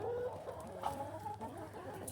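A hen, an Easter Egger crossbreed, clucks and warbles in a short, close run of throaty calls with a brief higher squawk in the middle, heard alone without talk.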